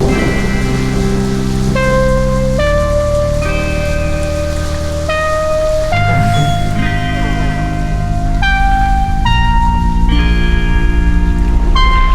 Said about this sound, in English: we come up to a forest while it's raining